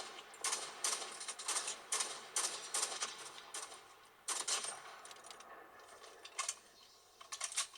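Gunfire in a mobile shooter game played on an Oppo Find X7 Ultra phone, rapid faint bursts of small clicking shots through the phone speaker, coming in quick irregular clusters.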